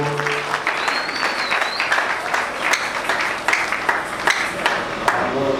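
A church congregation applauds during a Sunday worship service, a steady dense clapping with a few sharper claps standing out, filling the whole stretch with faint voices and a brief whistle-like tone mixed in.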